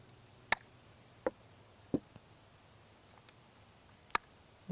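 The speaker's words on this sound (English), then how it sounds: "we're going to use some wire cutters to just cut them off" Wire cutters snipping the tips off fake candies for a giant gingerbread man decoration, several crisp sharp clicks at irregular intervals, close and fairly quiet, with no talking.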